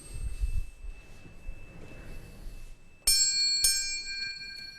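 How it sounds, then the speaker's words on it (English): Tuning forks struck at a sound healing session ring out in two bright, sustained metallic tones after a quiet stretch of low rumble, the second strike shortly after the first, both lingering with soft overtones. "If I do the tuning forks, you can hear the."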